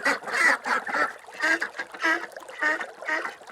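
Several ducks quack loudly and close in a rhythmic series of about eight raspy calls, separated by short pauses, with no speech over them.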